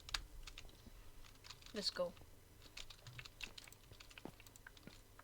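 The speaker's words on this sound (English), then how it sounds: "Insane clicking sounds." Rapid keyboard clicking while gaming, quiet and busy with uneven bursts of keystrokes, while a voice speaks briefly over it.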